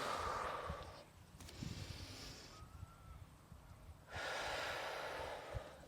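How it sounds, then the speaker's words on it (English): Two long, hissing breaths pushed out through the mouth, as if through a straw, during a yoga flow, close and fairly loud, separated by a quieter pause with light rustling and no talk. "you're always breathing out like you're breathing out through a straw"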